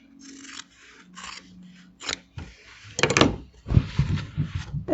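Scissors snipping through quilt fabric, several close crisp cuts and rasping blade strokes in quick succession, with a louder burst of cutting near the end, no talking.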